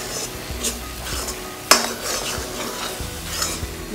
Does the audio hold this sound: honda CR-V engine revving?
no